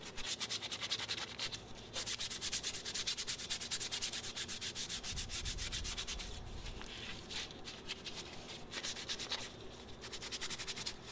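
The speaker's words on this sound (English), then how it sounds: "When sanding micarta, treat it just like wood and go progressively to finer grits." Micarta knife handle being hand-sanded, a steady rasping scrape in rapid back-and-forth strokes, close and continuous with brief pauses between passes.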